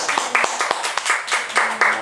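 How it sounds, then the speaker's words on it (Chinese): A book-talk audience claps in welcome, a burst of uneven hand claps repeating for about two seconds with some voices murmuring underneath. "那我们就掌声来欢迎东姐"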